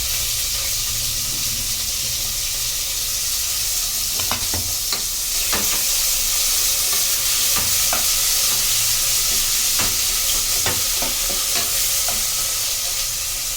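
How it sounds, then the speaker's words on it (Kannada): Chopped onions sizzle in hot oil inside a pressure cooker for a green chicken biryani, a steady close hiss broken by several sharp scraping clicks of stirring. "ಫಸ್ಟು ಈರುಳ್ಳಿ ಸ್ವಲ್ಪ ಹಾಕಿ ಫ್ರೈ ಮಾಡ್ಕೊಳ್ಬೇಕು."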